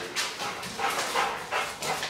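A dog barks repeatedly in a quick, uneven series of sharp yips and woofs, fairly close and loud.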